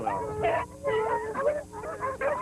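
Beagles trailing a rabbit at an AKC national field trial give voice together in overlapping, wavering bays and yelps, a continuous chorus of a pack heard at moderate distance.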